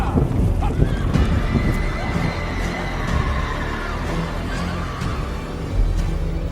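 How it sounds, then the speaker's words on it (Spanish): Frightened horses neigh and whinny repeatedly over a dense rumbling bed with hoof clatter, loud and close, with a voice talking over part of it. "los caballos comenzaron a temblar y a bufar y relinchar de miedo"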